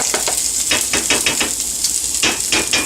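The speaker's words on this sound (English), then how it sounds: "you can hear that the oil's hot enough that the onions are popping a little bit because of the moisture" Onion sizzling and frying in hot oil, with a dense steady hiss broken by quick crackling pops, loud and close with no talking.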